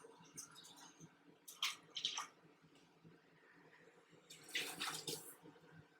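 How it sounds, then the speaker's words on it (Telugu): Water poured from a glass into a pot of cooking lentil dal for a Telangana-style plain pappu, heard as a few quiet splashing bursts, the longest near the end, over a faint low background hum. "Water పొయ్యాలి water."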